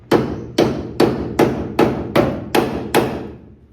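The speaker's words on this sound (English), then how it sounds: "take my little hammer" A small hammer taps a hinge pin into a K5 Blazer door hinge: eight crisp metallic strikes at a steady, even rhythm, close and loud, with no voices.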